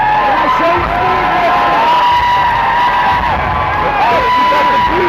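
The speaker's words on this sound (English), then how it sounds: "Listen out for the crowd." A crowd at a live regional fight event cheers and whoops loudly and continuously, with voices yelling and shouting over a dense roar of noise.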